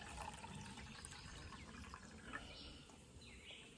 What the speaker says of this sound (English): I'm going to pour some of my coffee in here